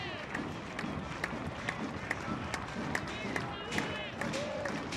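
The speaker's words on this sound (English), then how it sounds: "This crowd at Pete Taylor Park late arriving, but they're vocal early" Baseball crowd at Pete Taylor Park during a Southern Miss game, a steady murmur of spectators with scattered claps and shouts under a commentator's voice.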